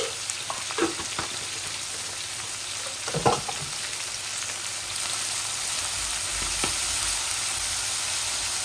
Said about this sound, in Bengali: আমার মশলাগুলো একটু ভাজা ভাজা হয়ে যাক